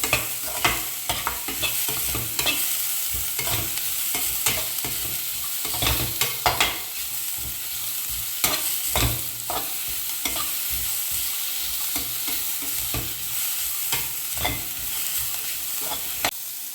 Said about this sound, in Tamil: இது கூட அந்த கேப்சிகம் நீல வாக்கில் கட் பண்ணி அதையும் சேர்த்து நல்லா வதக்கிக்கலாம்